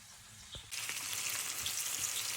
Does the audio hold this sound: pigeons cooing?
no